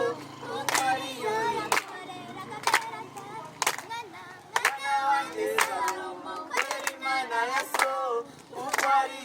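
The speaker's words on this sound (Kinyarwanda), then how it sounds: "Amashyi." Short bursts of group clapping mark the beat of lively singing at a youth gathering. Several voices, including children, sing between the sharp claps, and the claps recur every second or so.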